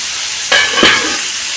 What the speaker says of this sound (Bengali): ঝিঙেটা আর আলুটা প্রায় ভাজা হয়ে গেছে